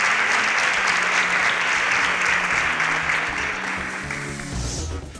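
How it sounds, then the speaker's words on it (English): An audience applauds a student contestant at the exhibition stage of a quiz competition, a full, even wash of clapping that tapers gradually toward the end. "A round of applause for Kamsi at the exhibition stage."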